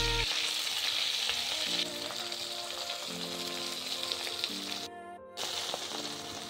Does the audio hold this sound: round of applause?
no